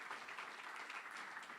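An audience at a symposium session offers a short burst of quiet, scattered applause heard from a distance.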